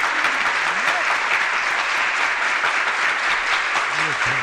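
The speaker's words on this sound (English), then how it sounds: "Give him a round of applause." A crowd applauds steadily throughout at a live comedy show, with dense, sustained clapping and a few voices calling out over it.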